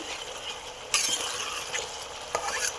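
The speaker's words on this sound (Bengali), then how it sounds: "এই মশলাটা আমি একটু কষে নেব।" Spice paste sizzles and fries in a pan as a spoon stirs it, with soft continuous crackling broken by a few sharp scrapes and clinks of the utensil.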